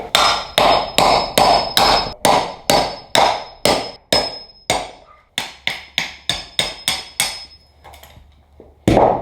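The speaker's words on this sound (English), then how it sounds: "We gotta split this piece of wood now." Steady, rhythmic hammer blows driving a hatchet into wood to split it, about two per second, loud and close, with a short pause before a final strike.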